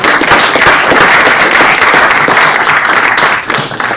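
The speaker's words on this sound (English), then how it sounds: "Let's give Brandon a round of applause." Applause at a city council meeting, a loud, dense burst of many people clapping that carries steadily throughout and tapers slightly at the end.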